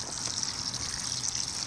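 Water pours steadily onto freshly transplanted tomato plants with a continuous soft, hissing trickle. The pour is brief and alone, with no talk.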